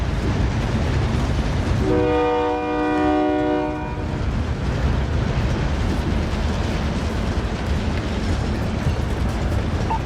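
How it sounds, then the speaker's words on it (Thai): In Call of Duty Modern Warfare, a train horn blares for about two seconds over a constant loud rumble of the arriving train and its rolling cars, with no talk. "รถไฟมาแล้วขึ้นรถไฟ"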